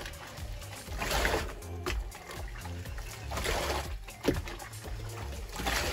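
Water running and trickling over a human hair full lace wig being rinsed, a steady close wash with faint splashes and no talking.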